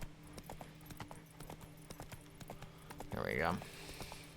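Horse hooves galloping in The Witcher 3: Wild Hunt (PS5), a steady clip-clop rhythm running throughout, with someone briefly speaking over it near the end.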